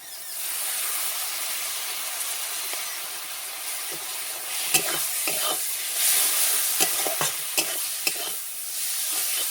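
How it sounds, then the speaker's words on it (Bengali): Shrimp frying in a pan with coriander powder, stirred steadily: a continuous close sizzle with scraping clatters of a spatula, louder bursts and knocks toward the end, no talk. "ভাজা ভাজা করে নেব।"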